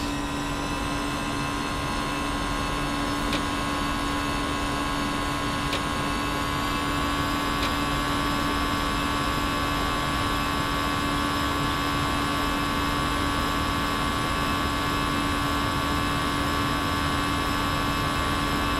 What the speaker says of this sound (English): So we are ready for takeoff.